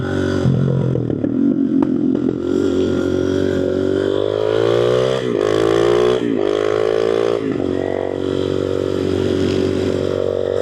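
Suzuki DRZ400SM and KTM 690 motorcycles riding together, a loud, continuous single-cylinder engine drone heard close up, rising and falling in pitch through repeated revving, upshifts and acceleration, with wind rush and no talk.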